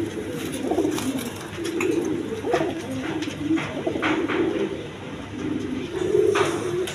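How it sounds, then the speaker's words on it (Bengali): A pair of pigeons, including a Giasuli male, coo in repeated low, throaty rolling calls at a market stall, close and steady against faint background noise. "এখানে একটা গিয়াসুলি নর কবুতর আছে"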